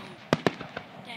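Fireworks finale at a display: two sharp close pops in quick succession, followed by fainter crackles and bursts trailing off over about a second.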